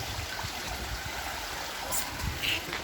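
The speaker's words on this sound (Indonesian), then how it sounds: "Nah, ini sungainya dari atas ini. Dari atas sampai sana sungai." A river stream flows steadily past a strawberry-picking farm in Pacet, a continuous rushing, trickling wash of water heard close and at even loudness throughout.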